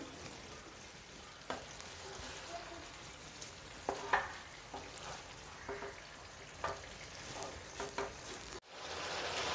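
Chicken frying in a pan for a curry, a soft steady sizzle broken by scattered scrapes and taps of a spoon stirring the meat, close but fairly quiet, followed by a brief louder burst at the end.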